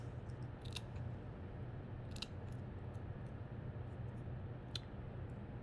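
Small scissors snip apart adhesive-backed pearl embellishments for a handmade Christmas card, giving a few quiet, crisp clicks spread over a low steady background hum.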